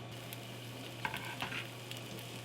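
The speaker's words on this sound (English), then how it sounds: "we're going to throw our kielbasa in the frying pan." Kielbasa sizzling in a frying pan on a stove, a steady close hiss of frying with a few soft pops and crackles, no voices.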